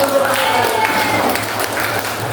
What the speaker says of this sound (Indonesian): Tepuk tangan buat Ahwal.